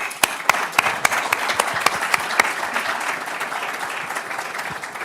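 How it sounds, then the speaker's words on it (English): An audience at an IE Executive MBA opening ceremony breaks into dense, steady applause, many hands clapping together for several seconds with a few sharper claps standing out and no talking. "And a big applause for you guys because you made it and you are here."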